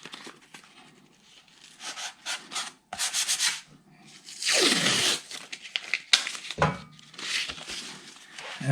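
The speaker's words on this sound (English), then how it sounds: "I'm just going to go ahead and start sanding these pieces out." Sticky-backed sandpaper rubs over acoustic guitar top brace pieces in uneven bursts of scratchy strokes, close and fairly quiet, with short pauses and a few louder sweeps.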